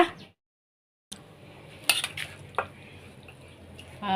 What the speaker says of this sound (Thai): ขาหมูของเรานะคะ ถ้ามันใหญ่ไปนะคะ เราก็หั่นสักนิดหน่อยก็ดีจ้า